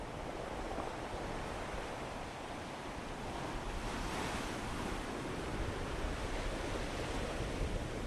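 Ocean waves wash onto the shore of a wild inlet, a dense, steady roar of surf blended with wind buffeting. No voices are heard over it.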